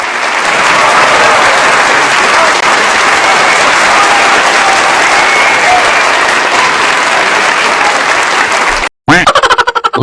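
Applause sound effect set off by pressing a button, loud sustained clapping that fills the scene for several seconds, then cuts out abruptly, followed by a few stuttering fragments.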